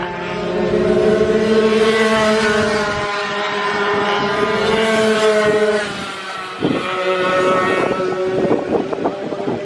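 Two racing motorcycles, number 141 and number 96, in a close battle at the Three Sisters circuit: loud, high-revving engine whines sweep past, one close behind the other, under steady wind buffeting.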